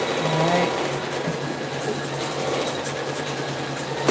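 Sewing machine running a satin or zigzag stitch along the edge of a clutch held in an embroidery hoop, a steady continuous whirring hum that holds at an even level for the whole stretch, with no talking.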